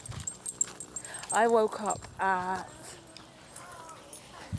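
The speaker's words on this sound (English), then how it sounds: "it is a dog party this morning" Dogs whimper and give a few whining yelps in the morning, two clear bursts close by in the middle, with a voice talking over the start.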